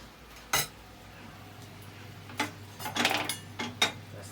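A knife slices through a rested sirloin steak on a board, giving one sharp knock early on, then a cluster of scraping, clinking cuts near the end. Low kitchen hum runs underneath and no one speaks.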